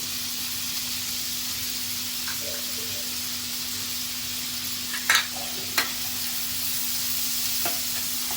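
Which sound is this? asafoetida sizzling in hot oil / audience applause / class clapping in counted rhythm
asafoetida sizzling in hot oil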